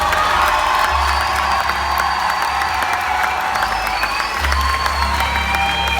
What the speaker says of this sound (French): applaudissez les Miss.